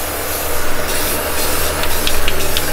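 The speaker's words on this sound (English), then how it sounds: "Spray it on thick." Aerosol spray paint, a clear coat, hisses steadily onto the door of a Lexus LS400, with a few brief louder spurts of spray near the end and no talking.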